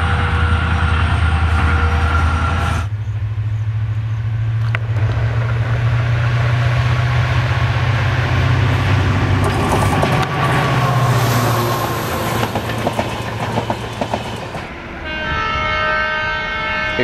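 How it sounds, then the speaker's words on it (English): An Indian Railways train hauled by a WDG4 diesel locomotive with an LHP rake passes on the Bangalore-Tumkur stretch: loud, sustained engine drone and rolling wheel clatter, with horn-like tones at the start and end. "Bangalore-Tumkur stretch to capture the perfect combination: Bleed Blue, WDG4 and the LHP rake"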